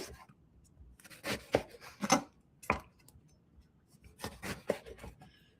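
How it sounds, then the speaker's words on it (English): A knife cuts eggplant into half-inch pieces for slow-cooker caponata, giving a few scattered, fairly quiet chopping strikes on a board in irregular bursts, with no talking. "We're going to cut it into like 1/2-inch pieces."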